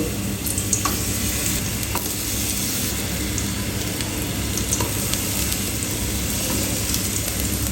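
Sweet pumpkin slices fry in oil tempered with cumin seed, sprinkled with a little salt, giving a steady, close, dense sizzle with a few faint scrapes of stirring throughout, and no talking.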